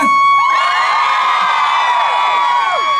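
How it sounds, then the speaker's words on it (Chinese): At a Taiwanese singer's outdoor concert during a festival night in Linbian, Pingtung, a large crowd screams in a sustained, shrill wall of voices that swells loud and slowly fades over about three seconds. "1万人的尖叫声是长什么样？"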